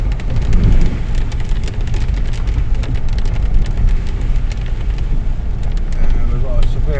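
Heavy rain pours down during a severe storm with flooding at a caravan site: a dense, loud, unbroken wash of falling water with scattered sharper spatters and a low rumble throughout.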